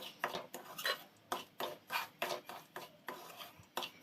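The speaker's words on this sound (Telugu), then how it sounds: "డ్రై రోస్ట్ సిమ్లో పెట్టుకొని చాలా రెడ్గా వచ్చే వరకు వేపుతాను నేను." Semolina dry-roasting in a pan for rava laddu, a spoon scraping and stirring it in quick, regular strokes, close and clear with no other sound.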